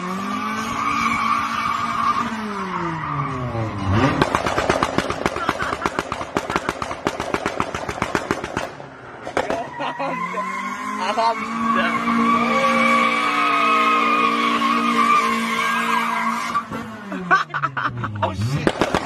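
A Honda car does a burnout and donuts on a street strip, tires squealing and skidding loudly over a roaring, revving engine with rapid popping, while people talk and shout nearby.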